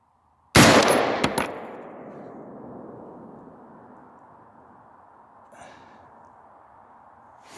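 A single loud rifle shot fired at targets 200 yards away, sharp crack followed by a long rolling echo that fades over several seconds, with a faint second report later.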